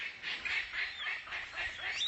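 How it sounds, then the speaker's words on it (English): A palm cockatoo squawks in a repeated series of harsh, raspy calls, about five rhythmic bursts close and loud, with no talk over them. "the palm cockatoo."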